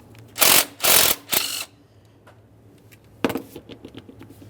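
Ratchet working the 13mm alternator mounting bolt loose on a 1994-2001 Dodge Ram 1500: three loud bursts of rapid clicking close together, a pause, then lighter, scattered clicks.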